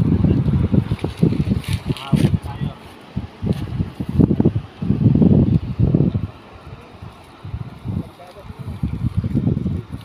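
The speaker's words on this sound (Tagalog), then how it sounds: "lumalakas na yung hangin. Oh, waves." Strong gusting wind at a beach shore roars against the microphone in surges, with rough rushing waves underneath while people talk over it.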